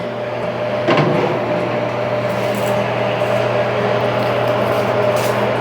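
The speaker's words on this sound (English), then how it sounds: "Just remove the lid." A food dehydrator's lid comes off with one short clack near the start, while kale chips sit inside; the machine's fan keeps up a steady, even hum the whole way through.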